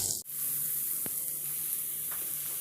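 Grated paneer sizzles steadily in a hot pan as it melts, a continuous frying hiss running throughout with a couple of brief stirring clicks and no talk.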